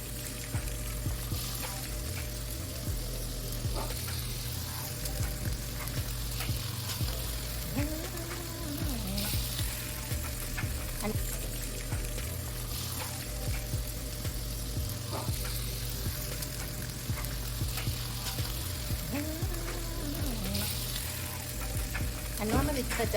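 Food fries in a pan at home, a steady sizzle under a constant background hum, with occasional faint scrapes and voices nearby.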